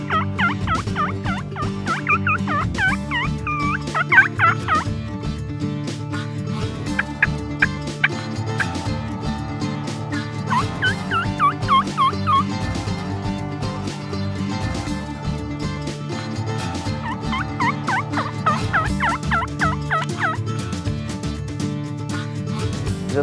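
Wild turkeys, hens and a tom, gobble and cluck in bursts across a long stretch, the rapid warbling calls recurring several times over a steady low background drone.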